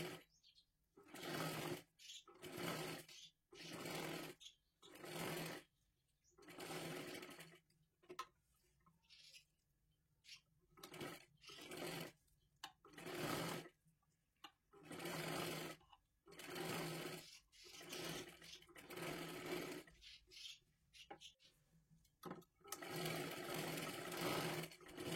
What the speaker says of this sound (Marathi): आपल्याला एक शिलाई इथे मारायची आहे आणि एक शिलाई इथे मारायची आहे